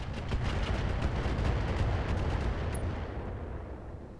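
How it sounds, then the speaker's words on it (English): Thumper artillery in the BattleTech mech game Roguetech fires a heavy booming volley, rumbling rapid reports that swell to a peak and then decay into a long fading tail. "Let's fire the thumper, because we can."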